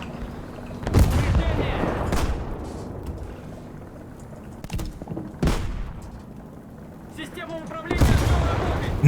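War Thunder tank battle with several sharp cannon shots and impacts spaced a few seconds apart over a rumbling background, loud bursts standing out from the steady din.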